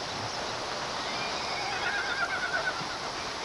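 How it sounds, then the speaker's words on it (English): Spooked horses whinny and neigh in a mountain frontier setting, a shrill call rising over a steady wash of background noise, with faint hoof clatter. "Something spooked the horses."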